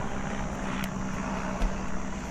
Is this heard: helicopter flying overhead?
yes